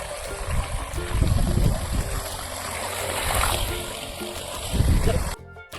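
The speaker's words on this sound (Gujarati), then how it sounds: "ચાલુ થઈ ગયું પાણી." Water starts running into a dirty village cattle trough, splashing and gurgling in surges close by, with people talking over it.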